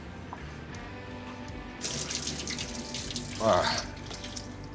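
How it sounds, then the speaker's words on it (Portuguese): Hot water from boiled potatoes pours out into a kitchen sink, starting as a sudden splashing rush midway and swelling near the end, over a quiet background with a brief spoken word. "vou escorrer essa água que tá aqui, ó"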